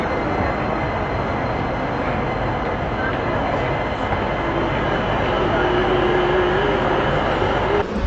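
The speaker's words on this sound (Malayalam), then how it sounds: "ട്രെയിൻ ഇതാ എറണാകുളം നോർത്ത് സ്റ്റേഷനിൽ എത്തിച്ചേർന്നിരിക്കുന്നു" A train pulls in at Ernakulam North railway station platform at night, a steady loud rumble of wheels and carriages lasting throughout, with a faint high squeal and station bustle underneath.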